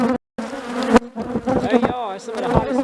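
Dense, angry buzzing of an aggressive honeybee colony swarming close by in Virginia, a loud wavering drone with individual insects whining past.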